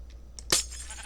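A single sheep bleat in a video game, short and fairly clear, after a couple of faint soft clicks.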